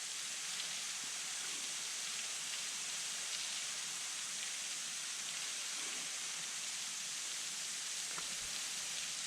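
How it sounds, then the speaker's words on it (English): Water from Kentucky's tallest waterfall drops over a rock shelf into the pool below. It makes a steady, dense hiss and roar that continues unbroken and even, heard from a short distance with no voices. "Listen to that water hit."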